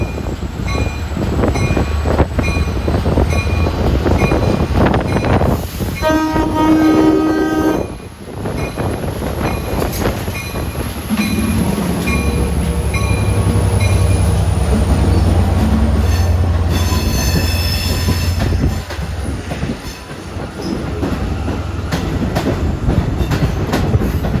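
A Long Island Rail Road train engine working Port Jefferson service rumbles loudly through Jamaica station, with horn blasts, squealing wheels and rhythmic clickety-clack over a heavy, continuous engine drone, close by and without voices.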